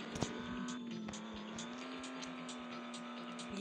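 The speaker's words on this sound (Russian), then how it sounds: "Мне надо на машине поехать." A car drives in a pixel-art gangster action game, with a steady engine drone that rises and holds. Short clicks and tire-like bursts sound through it, and there is no talk.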